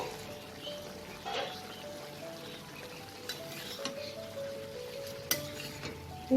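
Tangra fish curry with potatoes and onion stalks simmers under a lid in a pan, giving a soft, steady low sizzle broken by a few faint clinks.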